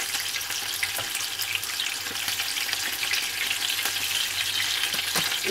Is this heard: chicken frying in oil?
yes